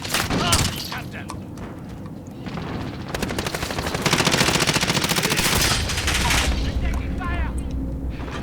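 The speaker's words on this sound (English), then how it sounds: "Where am I getting shot from?" Rapid video-game gunfire from a Modern Warfare match, bursts of automatic fire building into a loud, sustained barrage with booming impacts, while a player talks over the shooting.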